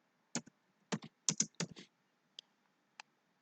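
Keystrokes on a computer keyboard while typing a short road label during map digitizing, a few quick bursts of close clicks followed by two isolated taps, with no talking.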